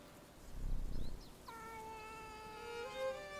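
A cat in the medieval game Bellwright meows once with a clear, drawn-out tonal call, preceded by a soft low rumble and brief faint chirps, with no talk.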